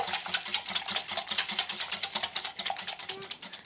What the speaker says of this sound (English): You just want to whisk everything together and you want to break up that egg.